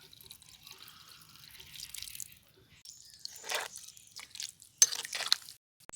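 Water poured into a pan of prawn curry, heard as quiet, intermittent splashing and trickling drips with short louder bursts toward the end.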